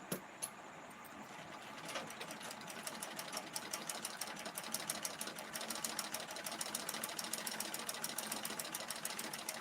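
A sewing machine stitches at home during a live session, its rapid, even needle clatter running steadily and close, picking up slightly in pace toward the end, with no voices over it.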